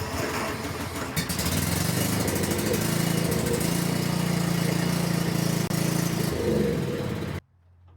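A small gasoline engine is fired up and runs steadily at a loud, close rumble for about seven seconds, then cuts off abruptly.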